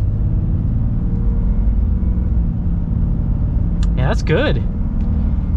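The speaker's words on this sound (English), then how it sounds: "We're gonna get our acceleration here at the 2500." Cabin of a 2021 Ram 2500 Laramie Mega Cab pickup truck under acceleration, a loud, steady low engine rumble filling the space, briefly broken by a short spoken remark near the end.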